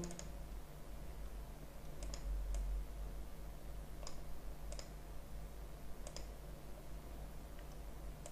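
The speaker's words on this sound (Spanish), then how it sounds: "Doble clic en relleno." Computer mouse clicks in Illustrator, sharp isolated ticks in quick pairs like double-clicks, repeating several times over a steady low hum with no voices.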